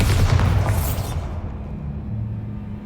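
A Bombarda spell goes off in the video game Hogwarts Legacy, a loud booming blast up close that rolls into a fading low rumble over a few seconds.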